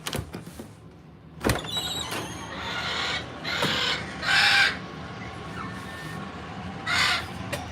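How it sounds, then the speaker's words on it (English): A pet cockatoo gives several loud, harsh calls indoors, spaced irregularly among thumps and household clatter, with no talk. "I hear you, Oakley."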